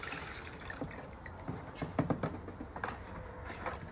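Half-full jug of 50-50 coolant poured straight into a car's cooling system during a flush: a faint, steady trickle and gurgle, with a few louder splashy glugs near the middle.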